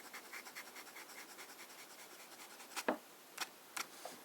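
A fountain pen inked with Noodler's Liberty's Elysium moves quickly across paper, producing faint rhythmic scratchy strokes, with a few sharper louder scrapes and taps toward the end; quiet and close, no voices.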